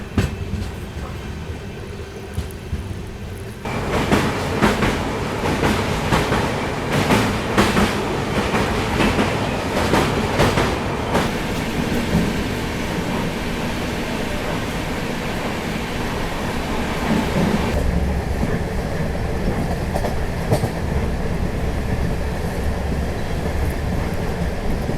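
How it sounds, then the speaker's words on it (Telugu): A WAG 9 electric locomotive hauling an express train rolls past at Nalgonda railway station, loud and close, with steady rumble and rhythmic clickety-clack of wagon wheels over rail joints for the full length. "సార్ ఏ ట్రైన్ సార్ అది?"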